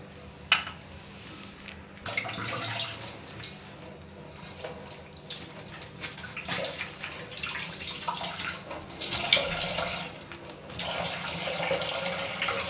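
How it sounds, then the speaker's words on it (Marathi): Crabs and prawns being rinsed under a running kitchen tap: a continuous splashing stream of water with shifting gushes and drips, close and fairly loud, with no voices. "खेकडे आपले छान धुवून झालेले आहेत।"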